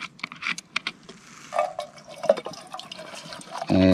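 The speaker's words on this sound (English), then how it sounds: "Got my titanium pot and some water." Water being poured into a small titanium camping pot at a hammock campsite, with soft splashes and trickling drips in short irregular bursts, ending in a louder steady gush.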